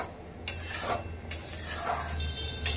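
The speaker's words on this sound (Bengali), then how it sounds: "বাড়িয়ে দিয়ে ভালো করে নেড়ে চেড়ে কষে নেব" Tomato and spice paste for bhoger labra is stirred and fried in a pan over a raised gas flame, with a low steady sizzle and a few clinks and scrapes of a spoon against the pan.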